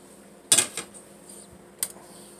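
A spatula slides under grilled cheese in a frying pan to flip it, making two short metallic clanks against the pan, the first louder and fuller, the second a lighter knock a moment later.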